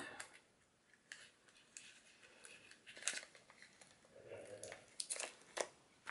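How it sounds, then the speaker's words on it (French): Scissors cut a sheet of paper card in two during a card-making craft session: a few faint, close snips and paper rustles, quiet and without talk. "Et je vais le couper en deux."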